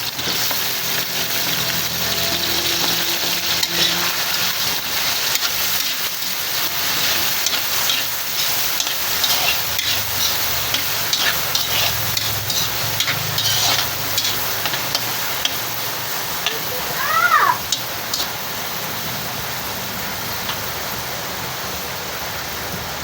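Tomato, ginger and onion sautéing in a pan for pork dinuguan, a steady loud sizzle and crackle that runs throughout, broken by a few stirring scrapes and a brief squeak near the end.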